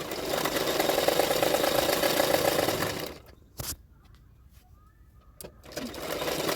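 An electric sewing machine runs a steady, rapid stitching whir through blouse fabric for about three seconds, stops, gives a short burst, then starts again after a pause; close and alone.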